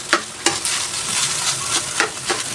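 Garlic fried rice (sinangag) is stirred in a wok over a steady close sizzle, with a sharp spatula scrape or clack every half second or so against the pan.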